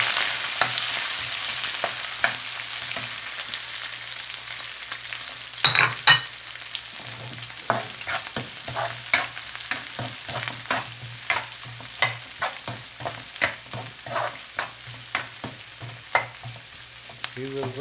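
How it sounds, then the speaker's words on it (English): Garlic and then onion frying in a pan for a banana flower sambar, a steady sizzle broken by repeated sharp scrapes and knocks of stirring, close and clear with no talk. "first we are going to fry the garlic. Then the onion."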